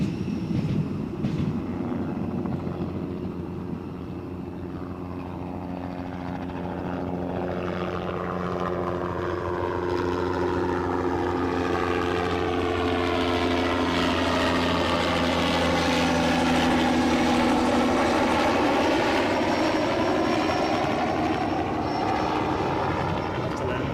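An airliner departs Newcastle airport. Its engine roar builds from a distant hum into a loud, rising, whining thrust with sweeping tonal shifts that swells steadily toward the end.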